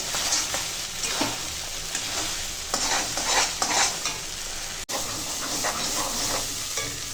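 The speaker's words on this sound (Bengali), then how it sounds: "এইভাবেই শুধু নেড়ে নেড়ে রান্না করবো" Loitta (Bombay duck) fish being stirred in a pan as it cooks, with a steady sizzle of frying under repeated scraping and stirring strokes, close and continuous, with no voices.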